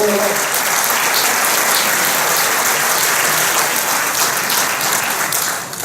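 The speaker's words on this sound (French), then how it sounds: "vous pouvez d'ailleurs les applaudir" Audience at a town's New Year greetings ceremony applauding a team in a loud, sustained round of clapping that tapers at the close.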